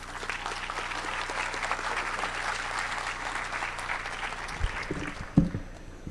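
Audience applause welcoming a speaker to a panel discussion on media literacy, steady dense clapping that holds for about five seconds before thinning out with a few louder claps near the end.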